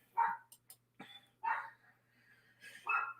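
Dogs bark outside in the distance, a few short, sharp barks and yips spaced out over a few seconds, fairly faint, heard alone with no talking.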